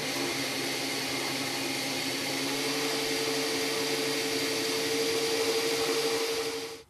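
KMG belt grinder running at speed during knife grinding, a continuous loud motor and belt whine with a steady tone, alone and unbroken until it winds down at the very end.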